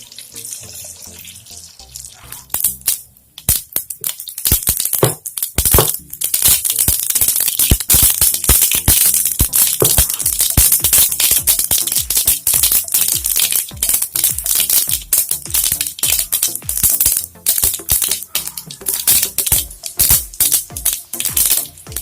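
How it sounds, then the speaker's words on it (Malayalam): Mustard seeds crackle and pop in hot oil in a pan while tempering for kappa puzhukku, a dense, loud run of sharp snapping bursts that starts sparse and thickens into near-continuous spattering. "ഫ്ലെയിം ലേശം കൂട്ടി കൊടുത്തോളൂ, കടുക് പൊട്ടണൊക്കെ."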